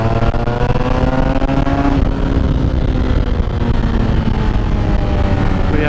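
A 1993 Yamaha TDM850 twin-cylinder motorcycle fitted with a Lextech YP4 end can revs up close by, its loud engine note climbing and falling in pitch through several rev sweeps over a continuous rumbling idle, with no voices.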